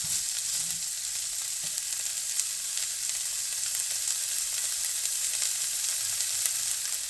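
Green beans, peas and soya beans sizzle and fry steadily in a pan for vegetarian fried rice, a continuous close crackling hiss with no voices.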